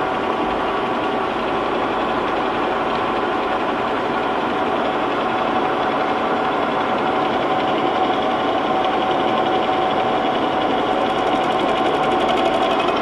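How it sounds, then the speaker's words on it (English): A milling machine cutter spins steadily and loud as the table is raised to touch off an aluminum way cover part, a constant mechanical whir with no pauses for the full length. "we'll start our cutter, and we're just going to bring the table in until we touch off"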